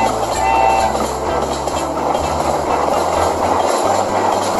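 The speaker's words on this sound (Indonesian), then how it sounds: "di sini ada kereta api" A toy train set rolls along its track with a steady mechanical rumble and regular rhythmic clicks, fairly loud and close, with no speech over it.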